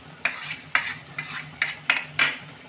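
A spoon stirs capsicum into a tomato spice masala in a pan for Indian-style macaroni pasta, giving five or six evenly spaced scraping clinks against the metal over a faint, low sizzle.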